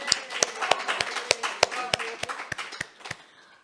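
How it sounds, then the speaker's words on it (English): A church congregation at a Sunday service claps in a sparse, fairly close series of distinct claps, about a dozen evenly spaced, thinning out toward the end. "Another round of applause for Christine"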